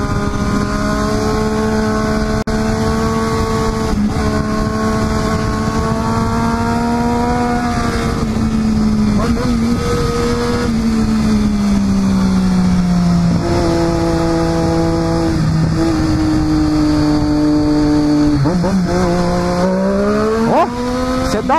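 A high-revving 2014 Triumph Daytona 675 R sport motorcycle engine roars continuously up close, pitch rising and falling through gear changes and throttle shifts while cornering, no voices.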